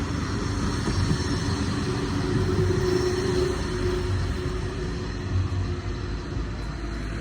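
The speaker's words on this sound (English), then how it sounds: "This is their tram, or their version of a streetcar." A tram in Switzerland rolls past with a continuous low rumble and faint metallic ringing, steady and fairly loud throughout.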